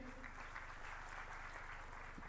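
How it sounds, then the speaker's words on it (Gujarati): Faint applause from a distant audience at a literary festival ghazal recital in Palanpur, a soft steady patter of clapping lasting a couple of seconds. "જોરદાર તાળીઓનો વિવેક"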